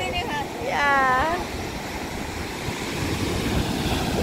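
Big ocean surf rolls in at Clear Water Bay beach with a continuous roar of waves and wind buffeting the microphone, plus a brief whistle-like tone early on.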